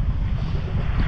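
A motorboat fitted with a 200 hp outboard engine runs out on open water in calm weather, a steady close rumble with wind buffeting the microphone throughout and no voices.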